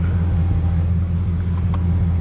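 Mercedes A45 AMG engine running, a steady loud low rumble with a constant droning hum, close and alone, with no distinct start-up burst.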